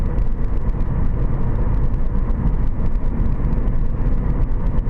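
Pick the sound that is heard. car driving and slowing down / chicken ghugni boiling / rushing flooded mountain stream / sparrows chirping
car driving and slowing down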